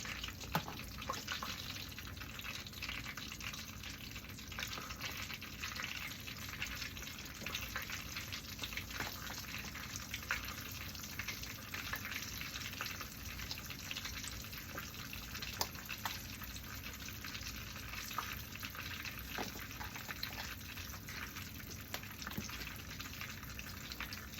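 Chicken fried steak drops into hot oil in a pan over a turned-down flame and fries with a steady, faint, even crackle and sizzle throughout.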